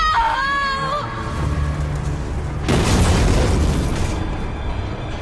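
A big booming explosion as a main power generator is destroyed in a space combat video game, bursting loudly after a voice and sustaining a roaring rumble for over a second before fading.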